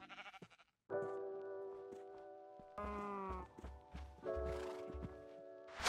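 Sheep bleating in the Minecraft game, several short wavering bleats in sequence separated by brief gaps, fairly close and clear, with some soft footstep-like thumps in between and no talking.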